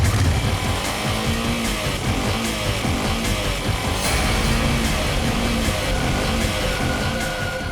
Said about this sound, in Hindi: बाइक खुद बोल रही है, ये वही बाइक थी।